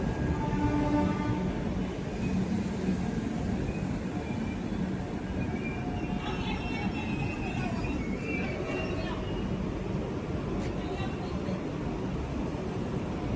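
Train departing Lucknow Charbagh railway station, a continuous rolling rumble of coaches with metallic squeals and clatter passing close by for over ten seconds, a brief horn-like tone early on, and faint station voices in the background.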